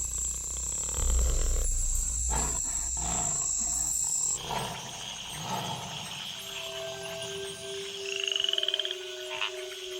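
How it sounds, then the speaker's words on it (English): Tree frogs call in a dense chorus after rain in jaguar habitat, with steady high-pitched trills and croaks layered over one another, loud and continuous throughout with no voices. "In the wake of the rains, the tree frogs gather for bouts of communal coupling."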